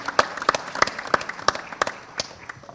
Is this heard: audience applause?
yes